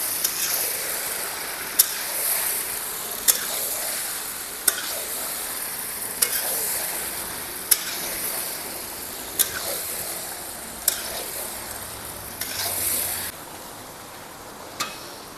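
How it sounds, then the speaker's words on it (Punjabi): Chicken frying in a pan for chicken pickle, a steady soft sizzle broken by regular sharp clinks of a spoon against the pan roughly every second and a half; no talking. "ਹੁਣ ਆਪਾਂ ਇਹਨੂੰ ਜਿਵੇਂ ਜਿਹੜਾ ਚਿਕਨ ਨਾ ਉਹਨੂੰ ਭੁੰਨ ਲੈਣਾ ਚੰਗੀ ਤਰ੍ਹਾਂ"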